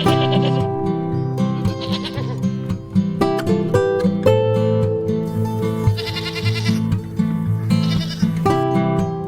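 Goats bleating in a barn, several loud overlapping calls in quick succession close by, some higher and some lower pitched, with no talking.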